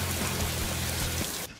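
Dense, hissing acid rain in a video game pours steadily and fairly loud, then cuts off abruptly near the end.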